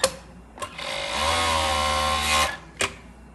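An overlock sewing machine stitching fabric after a stitch-length adjustment: a steady, close mechanical whir that runs for about two seconds, bracketed by brief clicks and knocks before and after, with no talk.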